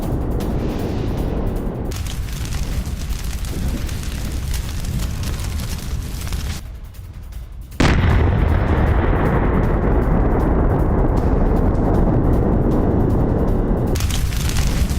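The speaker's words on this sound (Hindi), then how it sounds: "रूस के सेल्फ प्रोपेल्ड मोर्टार सिस्टम पर हमला।" Explosions from an attack on a Russian self-propelled mortar system in a rural area during the Russia–Ukraine war, a continuous loud rumbling roar that drops briefly near the middle, then returns with a sharp burst and sustained heavy blast noise.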